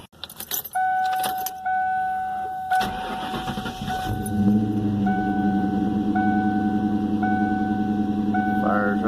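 Keys jangle and a door-alarm chime beeps repeatedly before a car engine cranks and starts after an intake and MAF cleaning, then settles into a smooth, steady idle under the chiming.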